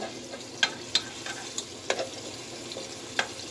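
Meatballs go into a hot pot for Nana's Thanksgiving recipe, giving a steady low sizzle of frying with a few sharp clicks and taps from handling and stirring, close and moderate in level.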